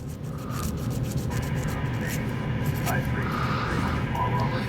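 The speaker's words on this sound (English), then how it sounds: "scuffing." Abrasive scuffing of a lamp bulb for a Cobra 2000 GTL radio, a steady close rubbing hiss that runs throughout at even level.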